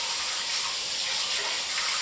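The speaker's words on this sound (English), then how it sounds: "I'm rinsing my bowl. If you're hearing the water, I go ahead and rinse my bowl immediately." Steady rush of tap water running into a sink while a bowl is rinsed after making lard and goat's milk lye soap, continuous and close with no speech.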